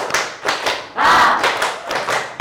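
An Indonesian vocational school class claps hands in a counted pattern: short groups of sharp claps separated by brief pauses, fairly close and moderately loud.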